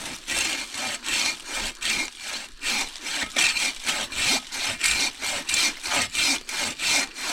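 A hand saw cuts down a small tree on a backpacking trail, giving steady rhythmic back-and-forth rasping strokes, close and clear, with no talking.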